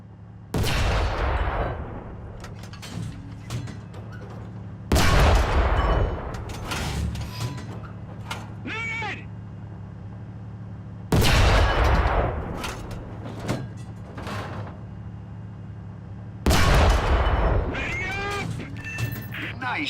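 Cannon fire in the War Thunder video game comes in four loud, sharp blasts spaced several seconds apart. Each blast is followed by rattling mechanical clanks, with a low steady engine hum underneath.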